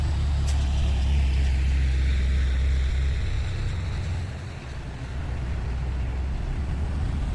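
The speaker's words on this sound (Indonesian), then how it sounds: "Wah, ada truk cabai mini." A small mini truck loaded with chillies climbs a hill road, its engine a close, steady low drone that dips briefly midway and then resumes, with no voices over it.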